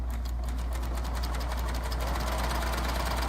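A Baby Lock Triumph sewing machine stitches with a curved foot attached, giving a loud, steady, rapid mechanical chatter of the needle that runs without pause at close range.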